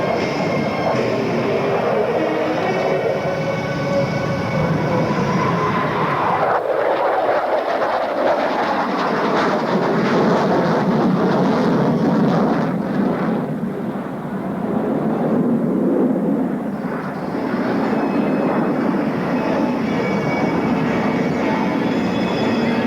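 Jet aircraft at a 1993 Hanscom Air Field air show making a low pass at 500 feet, then a rolling pitch-up, a loud steady roar that swells and shifts in pitch as the plane passes and climbs away.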